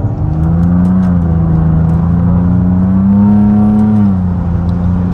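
A car engine revs up loud and close as the gas is pressed, the drone rising steadily in pitch, holding high, then dropping back, with no voices.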